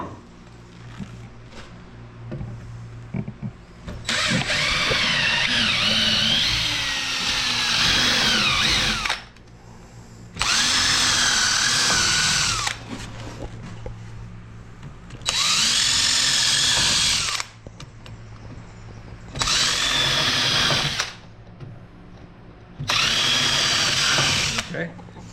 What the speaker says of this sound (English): if we pre-drill through here, we know exactly where they're at